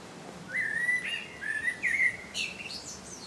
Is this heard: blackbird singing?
yes